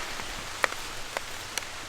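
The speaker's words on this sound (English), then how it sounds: "it's starting to rain" Light rain falls outdoors on a homestead near a chicken area, a soft, steady patter with a few sharper drops landing close by. It is fairly quiet overall.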